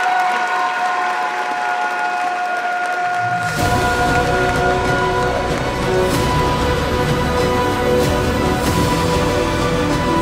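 Loud audience applause for Overwatch cosplayers at a convention stage contest bursts in a few seconds after a quiet start and continues as dense, sustained clapping with some cheering over music.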